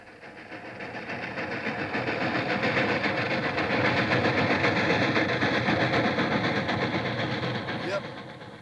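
A train passes through with a sustained rumbling roar and faint rhythmic rattle that swells to a peak and then fades, with a brief sharp tone near the end.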